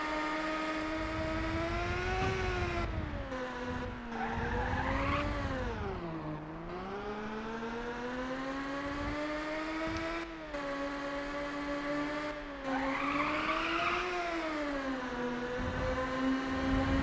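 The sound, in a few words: race cars driving and skidding in video game Ridge Racer Type 4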